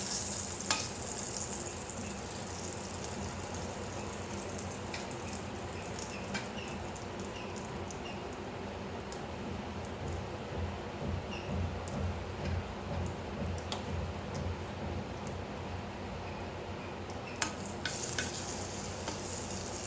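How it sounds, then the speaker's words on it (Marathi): A roasted onion, sesame, garlic and coriander paste fries in hot oil tempering for Hyderabadi masala brinjal, a steady close sizzle under frequent light ticks and spoon scrapes that runs on unbroken with no voices. "हे जे मगाशी वाटण केलं भाजलेला कांदा तीळ लसूण कोथिंबीर हे आपण यात आता फोडणीत घालू"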